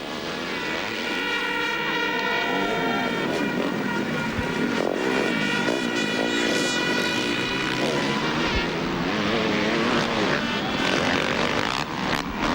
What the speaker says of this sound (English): the Floridian, 20-year-old James Stewart on his 450 factory Kawasaki bounds past the 250F Kawasaki of Mitch Payton's Pro Circuit team, ridden by Ben Townley.